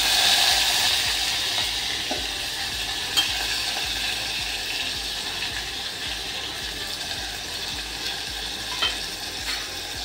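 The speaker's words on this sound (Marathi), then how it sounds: "आता आपण त्याच्यात कांदा टाकणार आहोत।" Onion slices go into a hot tempering of cumin and mustard seeds in oil, setting off a steady close sizzle and hiss with occasional stirring clinks and small pops.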